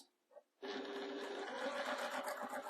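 A quilting sewing machine starts up after a faint moment and runs steadily and close, a busy mechanical whir with rapid stitching, while the machine struggles to trim its thread.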